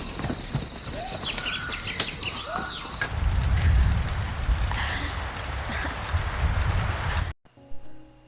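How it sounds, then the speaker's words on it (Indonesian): Rain falls outdoors as a steady hiss, with faint bird calls and what may be hoofbeats mixed in early on. The sound cuts off abruptly near the end. "walaupun hujan menghampiri mereka bertiga"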